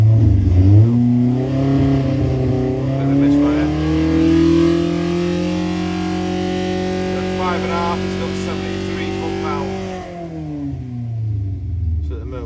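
A race car engine is wound up for the first time at a track day, its revs climbing and holding in a loud, sustained harmonic whine before dropping off near the end.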